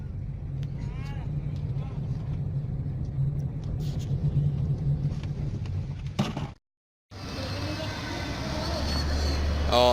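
A test vehicle drives along with a low steady engine rumble and road noise, a brief dropout midway, then the rumble returns louder; faint voices are heard.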